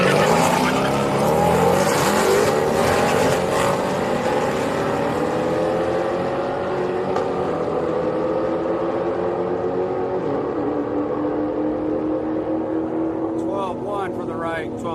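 A Dodge and a Camaro drag race at Houston Raceway Park, their engines a loud, close roar that climbs in pitch through the gears and then fades as the cars pull away, with a voice talking over it.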